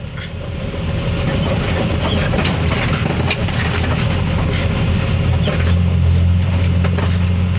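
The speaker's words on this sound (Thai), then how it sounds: "ขึ้นรถไถแล้วครับ" A farm tractor engine runs loud and close in rice-farming country, a steady drone with continuous rattling and clatter throughout.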